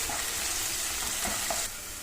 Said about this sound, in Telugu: మనం ఇప్పుడు ఆనియన్ ఎర్రబడే వరకు కలుపుకోవాలి